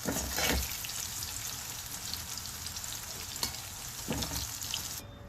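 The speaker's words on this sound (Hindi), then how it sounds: "तो भिंडियाँ हमारी फ्राई हो चुकी हैं, बस इतना ही फ्राई करना है इन्हें" Okra deep frying in hot oil makes a steady bubbling sizzle close by, with a couple of brief clinks or scrapes. The sound thins abruptly at the very end.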